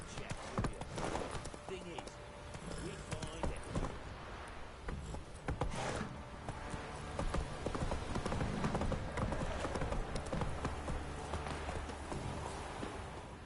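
Horse hooves clip-clopping at a steady trot in The Witcher 3, a continuous rhythmic patter with game ambience and occasional voices over it.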